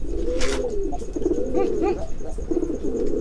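Pigeon cooing in a courtship display, several soft rolling coos in a steady rhythm close by, with faint background noise and no talk.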